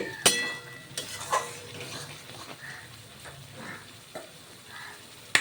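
A spoon scrapes and stirs spice paste sautéing in a pan for Bankura-style cabbage curry. Faint sizzling runs underneath, with occasional sharper clinks of metal against the pan, all fairly quiet.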